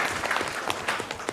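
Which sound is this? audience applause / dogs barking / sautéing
audience applause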